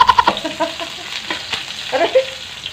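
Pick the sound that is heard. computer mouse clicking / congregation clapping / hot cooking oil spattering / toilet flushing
hot cooking oil spattering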